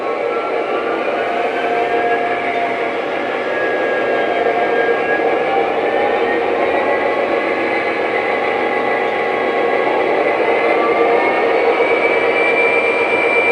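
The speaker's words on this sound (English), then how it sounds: "These GP-30 locomotives have 8 notches of RPMs as per the prototype. You can control those RPMs manually through the touchpad." A Lionel Legacy GP-30 model diesel locomotive's engine sound drones steadily and loudly, with whining tones that slowly rise and shift as the RPM notches change.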